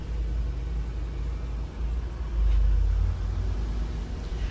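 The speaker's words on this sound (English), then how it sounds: "The engine continues to work" A 2020 Toyota RAV4 engine idles after an emergency start, a steady low rumble heard up close with a slight swell in loudness midway and no talking.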